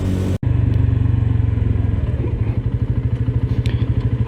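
A motorcycle engine runs close by with a steady throbbing rumble, the pulsing beat growing more distinct and uneven toward the end.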